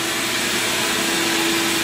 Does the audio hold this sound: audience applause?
no